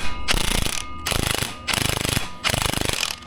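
A ratchet wrench loosens the bolts on the prop shaft center bearing of a Range Rover 4.4L SDV8 in four quick bursts of close, rapid clicking with short pauses between.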